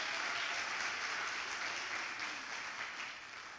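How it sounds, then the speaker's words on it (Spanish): Congregation applause at a Spanish-language church service, a dense, steady wash of many hands clapping at once, fairly close and sustained before easing slightly toward the end. "Dale un aplauso al Señor, por favor."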